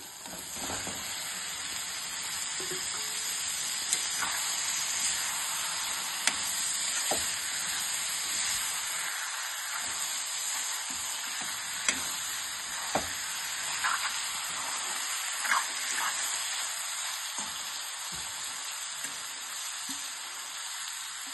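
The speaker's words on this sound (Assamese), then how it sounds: "এতিয়া মই চিকেনখিনি ইয়াতে দি দিওঁ" Chicken pieces drop into masala frying in a pan for a home chicken curry, giving a steady, loud sizzle and hiss that runs throughout, with occasional stirring clicks and small pops, no voices.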